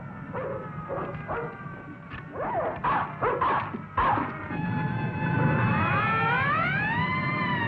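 A dog chases a wind-up toy cat, with a quick run of yipping barks followed by a long, wavering whine that carries through to the end.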